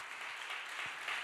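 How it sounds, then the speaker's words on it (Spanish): Church congregation applauding together, a steady wash of many hands clapping at moderate distance, continuous for about a second with no voices standing out. "Fuertes aplausos a nuestro Dios."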